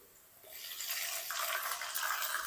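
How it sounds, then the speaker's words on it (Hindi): Water is poured into a pan of browned frying onions for a dal mash fry, setting off a sudden hissing sizzle that builds and stays loud and close. "इस टाइम पे आके ना हम इसके अंदर थोड़ा सा पानी डाल देंगे"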